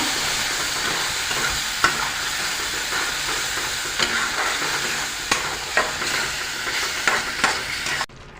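A tomato, ginger and garlic paste fries in a pan with a constant close sizzle, broken by sharp spatula scrapes and taps as it is stirred, before cutting off abruptly.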